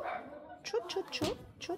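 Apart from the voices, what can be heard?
dog barking downstairs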